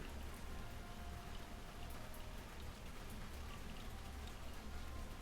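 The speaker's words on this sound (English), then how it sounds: "And it's raining right now." Steady rain patters on a surface throughout, soft and continuous with a dense, even texture and no voices; rainfall in Washington.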